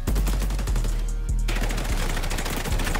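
Automatic gunfire rattles in rapid bursts in the shooter video game XDefiant during a gun game mode match, loud and close, with a brief pause in the middle before the firing resumes.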